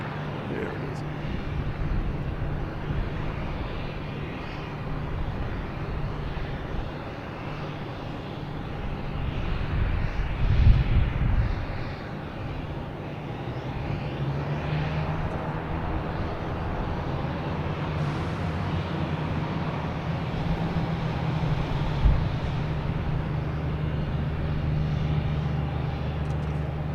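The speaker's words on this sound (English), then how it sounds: "But we have the Canadian Air landing first." Canadian Air airliner landing at Boston Logan airport, a loud, broad jet rumble with a steady roar lasting throughout, while people talk over it.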